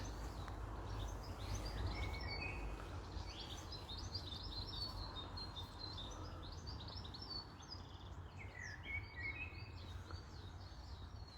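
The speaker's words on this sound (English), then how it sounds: "Listen to the birds." Birds sing and chirp in a Glasgow park: many bright, overlapping calls and twitters, fairly close, continuing over a steady low rumble of background outdoor noise.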